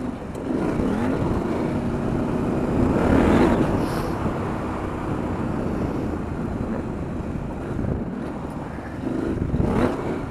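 A KTM 890 Adventure R motorcycle accelerates with the throttle opened, a mid-distance engine drone that swells and eases under heavy wind buffeting from a helmet or body microphone.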